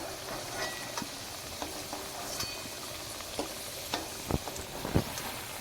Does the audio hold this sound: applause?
no